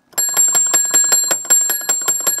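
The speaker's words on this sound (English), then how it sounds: "Quit ringing the bell." Old-fashioned bank counter bell struck over and over in a quick, steady run of bright metallic dings, loud and close with a ringing tone sustained between hits.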